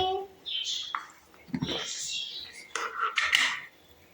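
A metal spoon adds tea powder to masala tea in a pot, making scattered clinks and scrapes against the pot while someone talks over them.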